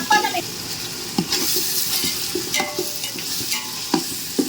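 Ginger garlic paste frying in hot oil for an Andhra-style prawn pulao, a continuous sizzle broken by several sharp clinks and scrapes of a spoon stirring against the pan.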